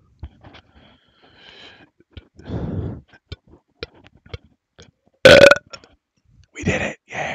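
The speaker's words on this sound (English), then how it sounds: "Burp really loud" A single loud, deliberate burp erupts mid-clip, preceded by quiet clicks and breathy rustles and followed by another rough, drawn-out burp-like exhale near the end.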